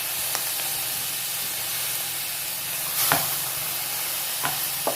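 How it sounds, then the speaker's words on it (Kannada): Mint and coriander frying with black pepper on a low flame for homemade green masala ghee rice, a steady close sizzle with a few scraping stirs of the spoon against the pan. "ಇದಕ್ಕೆ ಪುದೀನ ಕೊತ್ತಂಬರಿಯನ್ನು ಸಣ್ಣ ಉರಿಯಲ್ಲಿ ಇಟ್ಟುಕೊಳ್ಳಿ."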